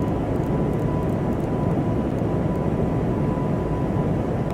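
An Airbus A220 taxis in Microsoft Flight Simulator 2024 with a steady, unbroken engine rumble and airy hiss at an even level throughout, and no voices.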